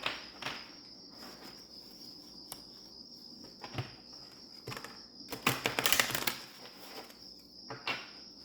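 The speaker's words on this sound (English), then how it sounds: "I love the sound of shuffling cards" Soft, close card shuffling with light taps and a quick riffle burst, set against a steady high whine in a quiet room.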